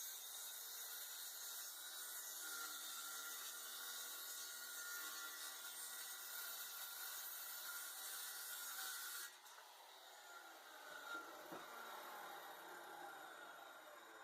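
A saw cuts through wood for the bottom plate of a drill press cabinet: a steady, close, continuous rasping hiss for about nine seconds, then quieter rubbing scrapes.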